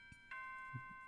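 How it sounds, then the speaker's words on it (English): A single soft chime of a bell as a visual novel sound effect, a quiet sustained ringing tone that lingers for about a second. "The bell rang."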